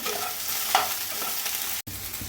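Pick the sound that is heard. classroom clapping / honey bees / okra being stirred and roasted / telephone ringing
okra being stirred and roasted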